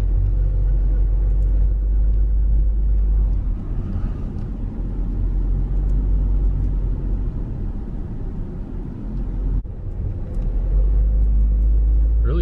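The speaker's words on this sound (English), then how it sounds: "Really thick sand on these roads. I'm struggling a bit with this car." A car labours along a thick, sandy forest road, its engine and tyre rumble loud and steady throughout with a brief dip midway and no talking.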